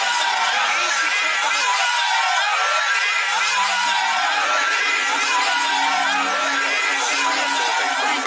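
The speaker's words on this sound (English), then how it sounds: "Outside the hospital, the crowd began to chant," A large crowd roars outside a hospital after the assassination of Rabin, a dense, continuous wall of massed voices that stays loud throughout with no break.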